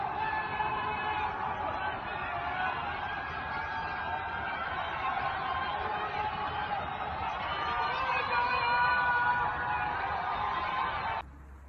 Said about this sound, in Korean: 동시다발적인 함성과 호루라기 소리가 울려 퍼졌는데